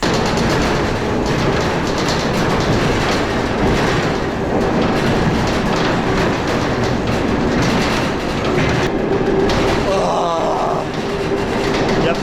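A freight train wagon rolls along rails across Russia, with steady loud rumbling and rhythmic clickety-clack of wheels over rail joints throughout, and a brief squeal near the end.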